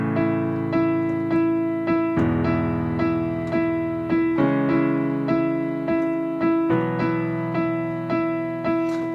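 Piano playing repeated right-hand E octaves on the offbeats over sustained left-hand chords that change every couple of seconds, an easy accompaniment pattern for a pop song, clear and close with no talking.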